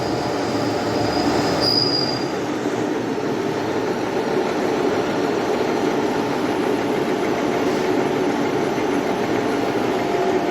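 A milling machine cuts elongated holes in a textolite part on a rotary table, producing a steady, loud, close machining drone with a high squealing tone early on and no talk.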